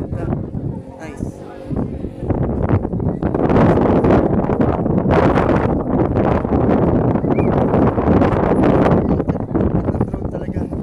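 Strong wind at Montemaria at sunset roars and gusts against the microphone continuously, mixed with rustling, while people talk over it.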